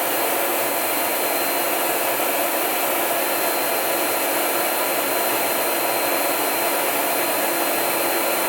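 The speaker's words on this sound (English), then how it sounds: "Place the nozzle for your second dry pass." Versa Spa spray tanning booth nozzles blow a steady, loud rush of air during a dry pass, a continuous broadband whoosh with no speech over it.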